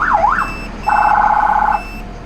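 An off-road fire truck's electronic siren wails up and down, then switches to a steady, loud tone for about a second before cutting off, with no voices.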